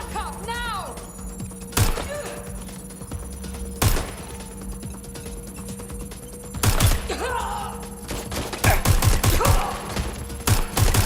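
Gunfire breaks out in Watch Dogs Legion, with sharp single shots and short bursts scattered among pauses, and a rapid cluster of cracks near the end, while characters talk in the background.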